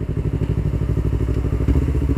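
A 2019 Yamaha New R25 motorcycle on slick tyres rides along a dry road, its engine throbbing loud and close in a steady, continuous rhythm of pulsing beats.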